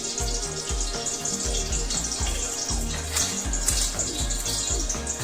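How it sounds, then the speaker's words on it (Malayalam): Coconut oil poured into a hot pan for Kerala payar mezhukkupuratti, a steady close hiss and light sizzling crackle running continuously without pauses or voices. "അതിനകത്തോട്ട് നമുക്ക് കുറച്ച് വെളിച്ചെണ്ണ ഒഴിച്ചു കൊടുക്കാം"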